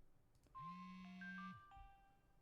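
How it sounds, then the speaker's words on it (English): Electronic phone ring in the horror video game Inhuman Resources: a single sustained tonal trill followed by a shorter chime, clear and alone against faint background hum. "The phone call."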